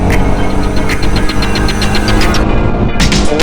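A Jawa Bobber 42 motorcycle engine pulls hard in 4th gear at speed, a loud, steady throbbing roar with a rapid knocking pulse that holds the whole time and has no talk over it.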